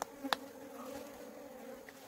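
Bees buzz around an opened beehive during handling: a steady, faint, close hum with a couple of short knocks near the start.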